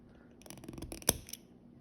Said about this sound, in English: take scissors or snips and cut through these loops